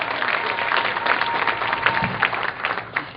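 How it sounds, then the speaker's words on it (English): Comedy club audience at the Cleveland Improv applauding steadily, a dense wash of clapping that slowly thins toward the end, with no voices over it. "Let's give him a big round of applause."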